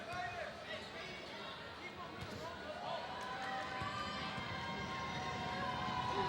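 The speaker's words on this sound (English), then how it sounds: "Crowd is really loud right now." Loud, steady crowd noise fills a high school gym during a Port Huron vs Port Huron Northern basketball game, with cheering and babble building slightly over time and occasional ball bounces and sneaker squeaks underneath.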